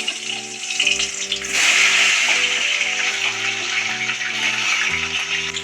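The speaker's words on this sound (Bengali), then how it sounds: "কচুগুলো আমি একটু ভালো করে ভেজে নেব।" Taro pieces, coated in a chili and turmeric paste, frying in hot oil as part of a vegetarian dish, a steady loud hiss and sizzle with soft background music playing underneath.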